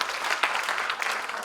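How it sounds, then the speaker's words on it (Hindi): Loud, continuous applause rises from the audience at a national poets' gathering, many hands clapping close together in an even, bright roar with no voices on top. "जोरदार तालियों से स्वागत करिए।"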